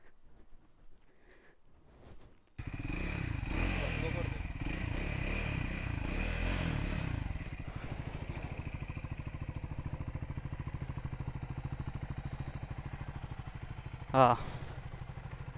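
A Triumph Scrambler 400X motorcycle ridden through city streets, with a steady mid-pitched engine hum after a quiet start and a short sharp scrape near the end. Voices are faintly present.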